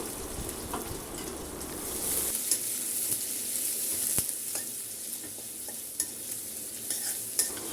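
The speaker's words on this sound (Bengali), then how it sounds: "তেলটা গরম হয়ে গেছে তবে আমি অফ ক্যামেরায় দিয়েছিলাম এখন পেঁয়াজ দিয়ে দিলাম আমি পেঁয়াজটা আগে ভেজে নেব" Chopped onions frying in hot oil in a wok while cooking chicken biryani, giving a steady near sizzle with frequent stirring scrapes and a few sharp clinks, with no talk over it.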